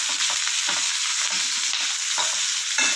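Onions frying in oil for a rajma gravy, a close, dense sizzle broken by light stirring scrapes, with no voices.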